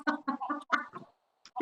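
Chickens cluck close by in a quick series of short clucks, a brief pause, then another cluck at the end.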